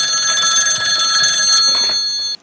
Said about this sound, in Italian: Se gli arriva la telefonata, evidentemente questa è Beverly